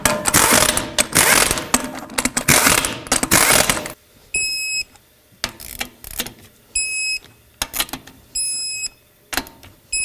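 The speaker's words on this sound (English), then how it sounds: "Start on all 5 of your lug nuts, snug them up, and then torque them to 100 foot-pounds." Ratchet snugging lug nuts back onto a 2007–2009 Saturn Aura wheel, a dense rapid clicking burst at first, then several short separate ratcheting runs with pauses between, close and fairly loud.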